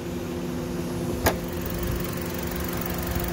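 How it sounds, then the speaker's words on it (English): A used vehicle's four-cylinder engine idles quietly and evenly as a low, steady hum, with one brief click partway through and no talk. "Motor runs real good. Nice and quiet."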